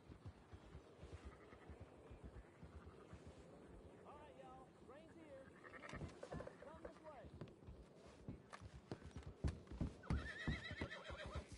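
A horse neighs and whinnies several times in the video game Red Dead Redemption 2, with clip-clopping hooves and a character speaking to it.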